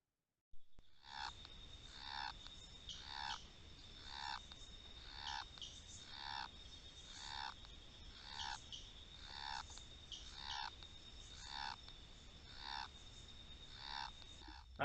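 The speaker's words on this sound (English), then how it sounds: "to actually record the calls of the golden tree frog" Male golden tree frog calling, a regular series of loud, rasping croaks repeating about once a second, close and clear against a quiet background.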